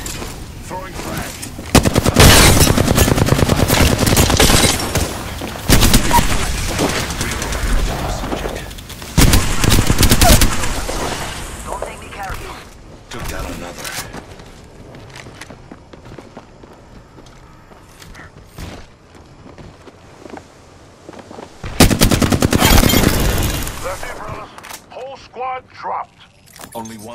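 Automatic gunfire rattles in an Apex Legends battle royale match, loud bursts coming in several heavy waves between quieter stretches, with voices talking over the shooting.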